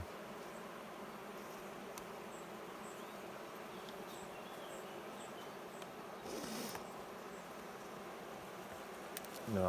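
Honey bees buzz faintly and steadily at an open hive, some returning orange with pollen, during a school visit at a beekeeping site.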